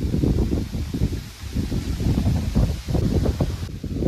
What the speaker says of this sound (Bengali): প্রচন্ড হাওয়া দিয়েছে।